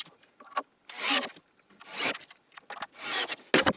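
A wooden wagon vise's rear part is screwed tight with several separate bursts of rasping, scraping friction, each about half a second long, heard close and alone with short pauses between them.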